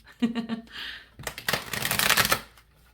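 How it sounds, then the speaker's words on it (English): Thick tarot cards are shuffled close up: quick riffling flutters, then a longer dense burst of crisp slapping and sliding, fairly loud and alone. "you can just listen to the lovely sounds of shuffling"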